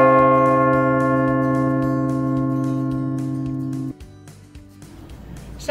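A large church bell in the tower of the Basilica of Evron tolls with a loud, sustained ringing tone and long humming overtones that ring on for several seconds before being damped, followed by fainter clanks and mechanical knocks.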